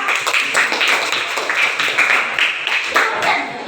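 Pupils in a classroom clap for a classmate, a close, fairly loud patter of many hands in uneven bursts that lasts only a few seconds.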